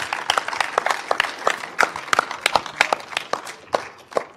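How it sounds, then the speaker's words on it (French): An audience at the closing ceremony of the Troyes short film festival applauds the director, with sharp, distinct claps, fairly close and uneven in rhythm, rising and falling over several seconds. "Et on peut les applaudir."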